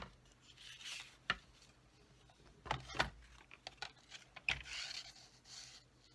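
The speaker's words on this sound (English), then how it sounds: "use my trimmer to cut this little piece off here" A paper trimmer cuts a small piece off a card sentiment, heard as faint, close sliding and scraping strokes with a few sharp clicks, spread unevenly across the quiet clip.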